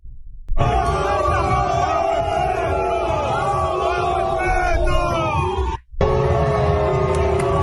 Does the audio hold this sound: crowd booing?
yes